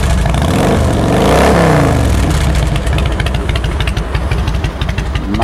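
A cold, carbureted Harley-Davidson Night Train FXSTB motorcycle engine idles loud and close, with a steady, uneven lope throughout and no one speaking.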